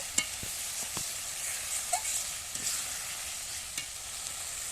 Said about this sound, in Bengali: জল দিয়ে কষিয়ে ভালো করে নিয়েছি মশলা থেকে তেল ছেড়ে গেছে